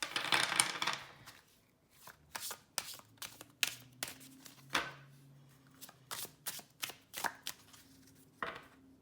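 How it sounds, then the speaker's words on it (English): An oracle card deck is shuffled by hand. Brief crisp riffles and taps come in a quick irregular series of bursts with short pauses between them. The sound is close and quiet, and no one speaks. "I'm going to give it a quick shuffle as I don't have a guidebook to go through."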